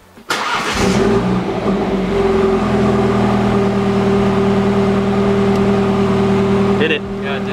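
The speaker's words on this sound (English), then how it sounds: "we're just gonna do the initial startup." A BMW F30 fitted with an M Performance exhaust cranks and fires up with a sudden loud roar, then settles into a steady, throaty idle close by, with a brief blip near the end.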